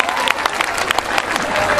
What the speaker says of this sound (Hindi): आप भारत के इमरान को सुन रहे हैं दोस्तों, पुरजोर तालियों से इस्तकबाल करें